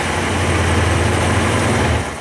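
A loud, steady low truck engine rumble idles close by after a remote start, without letup, easing slightly at the very end.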